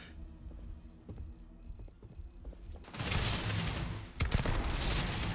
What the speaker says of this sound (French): Oh merde, j'ai tiré dans qui?